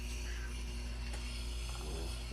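A sharpening wheel turns slowly in a steady mechanical run, giving a constant low hum with a faint whirring rasp throughout and no talk.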